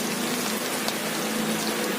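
Assamese pitha frying in hot oil, giving a dense, even sizzle like steady rain, close and continuous throughout with no talking.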